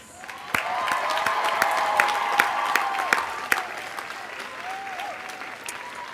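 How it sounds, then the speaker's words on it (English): A crowd applauding steadily at a college commencement, dense clapping that builds and then gradually thins out, with some sharp louder claps and faint tonal sounds in the background. "applause"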